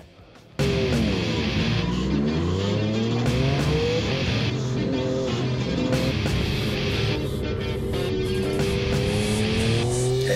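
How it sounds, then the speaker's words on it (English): Triumph 765 Moto2 mule motorcycle lapping the short, twisty Stowe circuit, its engine loud and close throughout, revs rising and falling in smooth sweeps through gear changes and corners. "Going to go for a ride the bike now, see how it goes"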